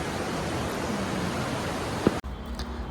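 Rain falling near Nangartas waterfall in Amboli: a loud, steady broadband hiss of rain and rushing water, briefly cut off near the end before resuming more softly.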